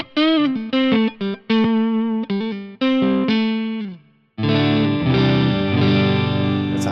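A Hils America The Essence electric guitar on its neck pickup plays loud, driven single notes and short phrases, then a sustained strummed chord, up close with no voices.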